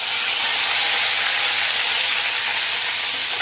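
Fish swim bladder fries in hot oil in a wok, giving a loud, dense, unbroken sizzle and hiss that holds steady throughout with no voices.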